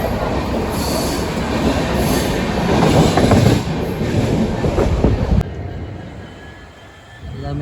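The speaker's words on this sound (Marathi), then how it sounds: "फायनली आपली ट्रेन सुटलेली आहे" A passenger train pulls out and runs along the rails, heard from on board as a loud, steady rumble with clattering wheels that cuts off abruptly, leaving a quieter hum with no talking.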